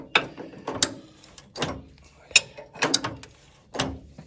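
Socket wrench ratcheting on a Land Rover Series 2A during brake work, a quick series of sharp clicking bursts, about eight, in an uneven rhythm, fairly close and fairly quiet.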